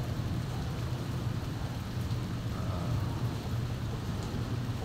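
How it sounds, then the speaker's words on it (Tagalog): Steady drizzling rain falls continuously under an overcast sky, a dense wash of drops with a low rumble underneath, unbroken and fairly close. "Tikatik yung ulan, so matagal yan bago tumigil."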